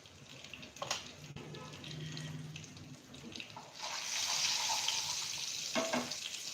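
Mustard seeds and cumin splutter in hot oil in a home kitchen, a quiet crackling sizzle that grows into a steady hiss, with clinks of a utensil and brief stirring sounds.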